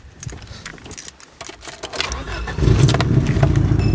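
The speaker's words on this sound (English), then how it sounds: "I'm gonna pull my car up a bit in the shade" A car starts up and idles after clicks and key jangles, the engine rumble rising abruptly partway through and then holding steady nearby.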